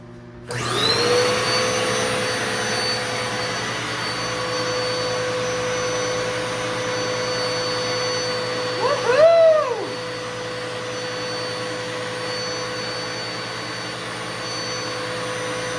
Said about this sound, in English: It's the vacuum cleaner and the microwave.